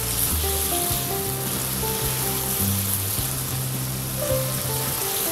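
Chicken pieces for black pepper chicken fry in a pan, releasing plenty of water, with a steady, loud, dense sizzle running unbroken throughout and no voices.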